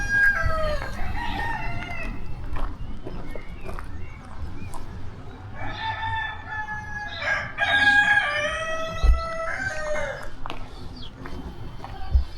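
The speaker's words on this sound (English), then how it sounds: "You can even hear the roosters crowing here." Several roosters crowing on a farm in Germany, repeated drawn-out crows rising over a busy rural background with clucking fowl and scattered other noises, some calls nearer and louder than others.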